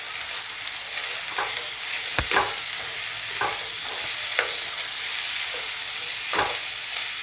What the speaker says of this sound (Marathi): एक 2 मिनिटे आपण ह्या भाज्या सर्व परतून घेऊयात।